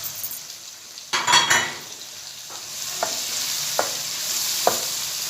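Chopped tomatoes go into frying masala for dal makhani: a loud sizzling burst as they hit the pan, followed by a softer steady fry and several sharp clinks of a utensil stirring against the pot, close and without talk.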